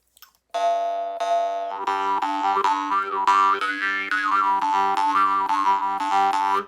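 A twangy, resonant jaw harp plays a steady melodic pattern in the style of old Norwegian players, its bright overtones sliding up and down over a droning tone after a short silence.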